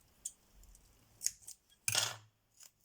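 Scissors snip a few times, quiet crisp cuts with short pauses between them, the last one the loudest, in an otherwise quiet room.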